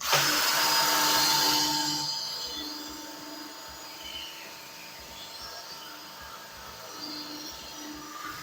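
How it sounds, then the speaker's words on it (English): A power drill fitted with a wire wheel whines loudly at first, then slows to a lower grinding buzz with scratchy scrubbing as it cleans a Mitsubishi Pajero wheel rim. "just position the drill so the wire wheel is touching the top of the part of the rim"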